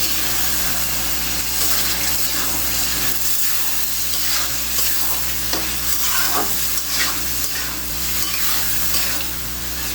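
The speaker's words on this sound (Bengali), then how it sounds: "এর ভিতরে বাইক মাছগুলো দিয়ে দিলাম একটু কষিয়ে নেওয়ার জন্য" Fish sautés with tomato in a hot pan while being stirred, giving a steady loud sizzle with scraping stir strokes throughout.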